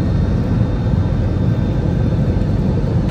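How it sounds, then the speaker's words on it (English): Inside an Air India passenger plane on final approach to Delhi, a loud, constant low cabin rumble and engine roar drones on without pause or voices. "Now the plane is at final approach for landing."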